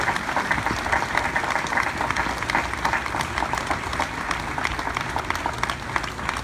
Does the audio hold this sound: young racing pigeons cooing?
no